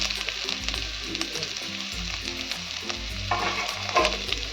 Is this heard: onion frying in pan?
yes